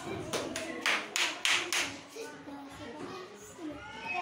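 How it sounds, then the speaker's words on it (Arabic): Children clapping in a first-grade classroom at a Yemeni school, a run of about six sharp, evenly spaced claps followed by softer scattered taps, with children and a teacher talking around them. "اسمع قوة تصفيق"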